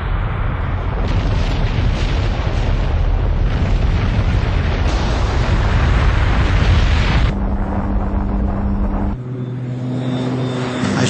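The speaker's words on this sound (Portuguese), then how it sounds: "Uma bomba de hidrogênio, a arma mais letal que existe." A hydrogen bomb test explosion produces a massive, continuous roaring rumble with a wind-like blast, then drops suddenly into a quieter low drone.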